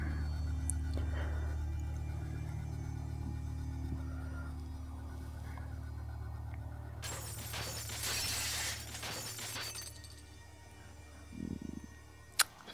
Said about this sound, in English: Glass shattering.